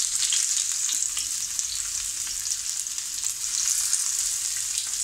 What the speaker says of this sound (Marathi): आणि कांदा भाजून घेते